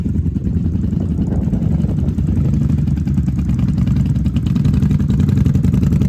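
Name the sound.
Honda Magna 750 motorcycle engine idling through exhaust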